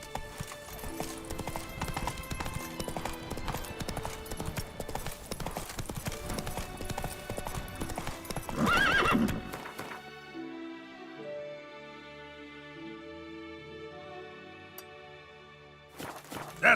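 A horse gallops in The Witcher 3 with fast, loud, continuous hoofbeats for about nine seconds, then the hooves drop away and calm game music carries on alone.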